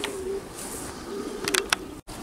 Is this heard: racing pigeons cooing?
yes